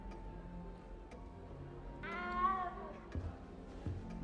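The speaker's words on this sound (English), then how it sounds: "Oh, there's a cat." A cat meows in the video game Hogwarts Legacy, a single drawn-out, rising meow in the middle of the stretch over quiet game ambience and faint ticking.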